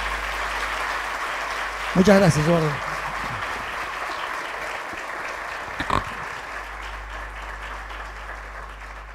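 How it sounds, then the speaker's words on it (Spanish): An audience at an economics conference applauds after a talk with a steady wash of clapping that runs the whole time, and a voice briefly speaks over it twice. "Le brindamos un muy fuerte aplauso por la ponencia"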